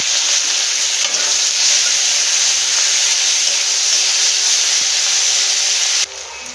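Chopped onion goes into hot oil already tempered with cumin and dry chilli for a rohu fish curry with cauliflower and potato, hissing in a loud, dense, close sizzle that runs steadily before easing off near the end. No one speaks.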